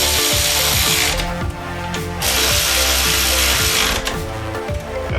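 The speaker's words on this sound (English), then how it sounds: "now we're just gonna tighten the power steering pulley bracket back up" A hand tool works on 14 mm bolts of the power steering pulley bracket on a 1990 Jeep Wrangler YJ 2.5L, giving loud, close, steady mechanical whirring and grinding with brief breaks and uneven rhythm.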